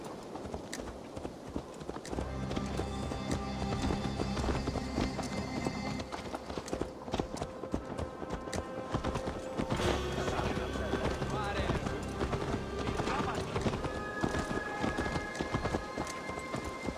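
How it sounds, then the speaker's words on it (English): Horse hooves clip-clopping in Assassin's Creed Valhalla, a steady rhythmic trot under game music and voices talking throughout. "Let's return the horse."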